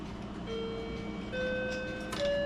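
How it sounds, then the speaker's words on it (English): A clock going off as an early warning, sounding a few minutes ahead of other clocks in a room full of them, heard as steady sustained chime-like tones that step up in pitch and grow slightly louder, with no talk over it. "That clock always goes off about 3-4 minutes before the rest of them do."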